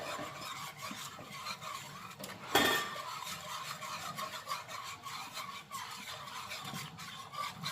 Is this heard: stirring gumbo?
yes